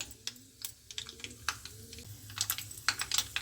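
Fenugreek seeds crackle in hot oil while tempering for a methi saag dish over a high flame. Close, irregular pops and spits of sizzling fill the moment, with no voices.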